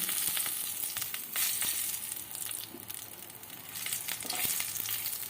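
Black cumin, a bay leaf, cardamom and cinnamon sizzle in hot oil with a dense, steady crackle, punctuated by sharp pops and light stirring scrapes throughout.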